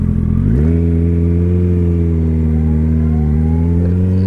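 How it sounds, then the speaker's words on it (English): Kawasaki Ninja ZX-14 motorcycle with a Kaufman exhaust, a sharp rev flaring up then settling into a loud, steady idle-like drone close by, no talk. "That Kaufman exhaust sounds really good."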